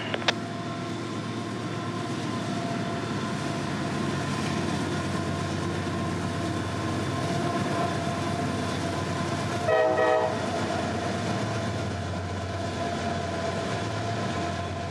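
CSX freight train M543 rolls southbound past the River Holdout signal under an overcast afternoon sky, a long steady rumble of wheels with a brief horn sounding partway through.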